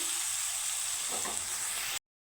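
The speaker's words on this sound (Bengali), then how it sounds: "দেখো পেঁয়াজটা আমার লাল করে আমি ভেজে নিয়েছি" Onions turned red frying in a pan for a katla fish curry give a steady, close sizzle with a brief stirring scrape near the middle, then stop abruptly just before the end.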